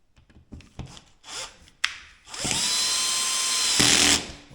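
A small cordless screwdriver, set to a low torque, drives screws into a flush-mounted electrical socket, with a few sharp clicks and taps before a steady whirring run of about two seconds.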